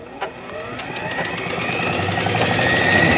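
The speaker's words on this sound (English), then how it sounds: "And then we'll just sew." A sewing machine runs a seam on a knit T-shirt at fairly high speed. The whirring rattle comes up close and builds steadily louder, with a sharp click near the start.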